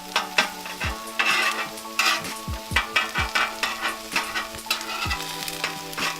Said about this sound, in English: So I'm scrambling these up. While everything is all cooking down.